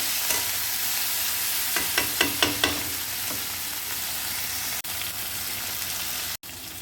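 Chili pickle fries in a pan as a spoon stirs it. A continuous hiss runs under a quick run of scraping strokes near the start, then the sizzle carries on alone with two brief dropouts.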